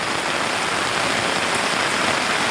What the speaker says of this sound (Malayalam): ഒരു രക്ഷയില്ലാത്ത മഴ.